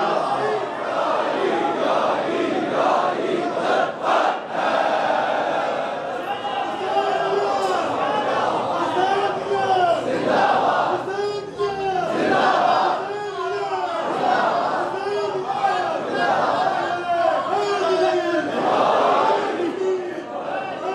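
A large crowd at a Milad un Nabi gathering in an imambargah chants religious slogans in loud, rhythmic unison, repeated call-and-response bursts over about twenty seconds of continuous massed voices.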